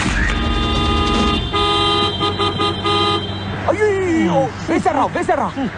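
A car horn in a scene from the Telugu film Snehitudu, a run of loud, sustained honks from about one to three seconds, followed by people talking.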